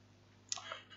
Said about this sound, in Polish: klikamy na niego